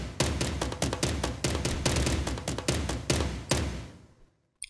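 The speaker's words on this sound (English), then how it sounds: "So I made this tom" Cinematic tom drum loop for a melodic bass build-up: booming, reverberant tom hits in a driving, uneven rhythm, loud and close, cutting off sharply to silence near the end.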